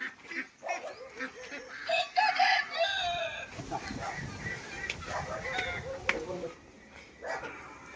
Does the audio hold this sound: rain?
no